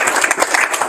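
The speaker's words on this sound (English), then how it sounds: "Round of applause." Brief burst of audience applause at a Guam Green Growth steering committee meeting, a short dense patter of clapping under just under a second, fairly close and steady.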